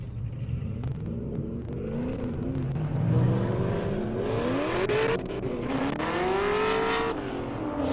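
A Supra and a ZL1 drag racing on a half-mile airstrip, engines revving hard with rising and falling pitch sweeps as the cars accelerate and shift, a loud, continuous roar from a moderate distance.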